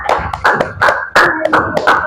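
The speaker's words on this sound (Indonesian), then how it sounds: "Iya, tepuk tangan." Hands clap in a classroom, about ten sharp claps in an uneven, lively rhythm, close and fairly loud, with brief gaps between bursts.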